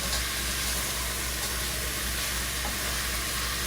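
Oxtails brown in a pressure cooker with a steady, dense sizzle and crackle of frying meat, loud and close, running without pause and without speech.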